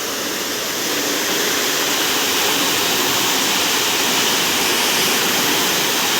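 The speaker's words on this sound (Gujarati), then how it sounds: "પાણી આવવા માંડ્યું છે।" Irrigation water rushing into a chickpea field, a steady, dense broadband gush like a small waterfall that holds constant and close for several seconds with no voices.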